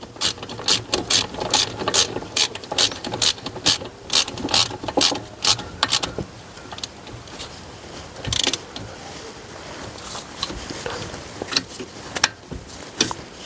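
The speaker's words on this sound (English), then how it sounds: "got my 13mm socket and a 17mm spanner to hold the slider nut, and then I'm going to tighten them up" Socket ratchet clicking in quick bursts while tightening the brake caliper slider nuts on a 2017 Mercedes E220 during a disc and pad change, a 17mm spanner holding the nut; close, crisp pawl ticks with short pauses.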